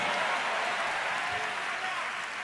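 A church congregation claps together in a sustained, dense round of applause that stays loud and steady throughout, with no talking over it.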